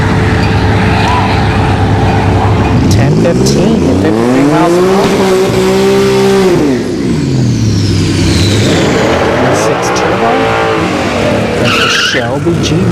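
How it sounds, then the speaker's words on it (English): A Ford Shelby GT500 at a test-and-tune drag strip session, loud engine revs rising and falling with screeching tire squeal, as during a burnout and launch, with a voice talking over the roar. "Shelby GT500."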